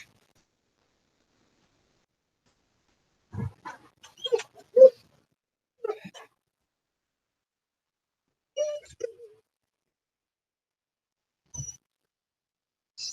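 A dog whines and whimpers in short, scattered bursts separated by long silences, close and fairly clear, with a few yips among the higher-pitched cries.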